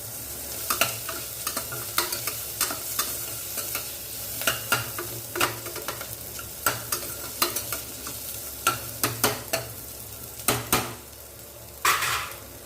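Onions being sautéed in a pan for Sri Lankan seeni sambol, a steady low sizzle punctuated by many sharp spoon scrapes and clinks against the pan in an irregular rhythm, close and without speech.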